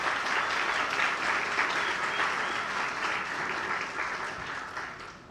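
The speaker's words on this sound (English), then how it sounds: "let's give him a round of applause in his vote" Steady applause from a crowd at a political event, sustained clapping throughout that eases slightly toward the end.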